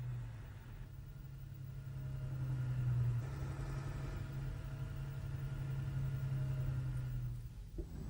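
A Vorn Zugmaschine tractor engine pulling a V2 launcher trailer, a low steady drone that slowly swells and holds, faint and distant, with no other sounds over it.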